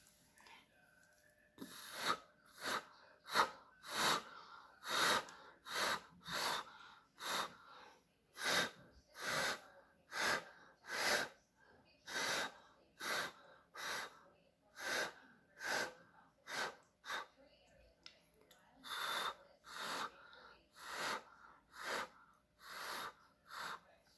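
Repeated forceful breaths blown out through the mouth to spread poured acrylic paint into a bloom, about two dozen rhythmic whooshing exhalations, close and steady with short gaps.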